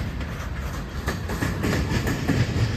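A freight train with a rear DPU locomotive rolls past at CP 661 near Dalton, giving a steady rumble with rail clatter, fairly close and continuous, with no voices.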